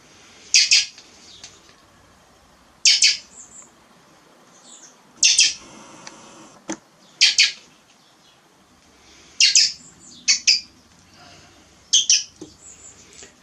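A hungry young thrush, fallen from its nest and hand-reared, gives sharp, loud squawking bursts in short clusters while being fed, with quiet pauses between calls and no talking.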